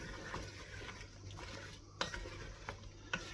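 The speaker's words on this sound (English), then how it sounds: "I'm just going to add these apples to this mixture. I'm going to give it a stir." Peeled apples being stirred into a pie filling mixture in a bowl, soft scraping and light clinks of the spoon, with a few sharper knocks, close and fairly quiet with no talking.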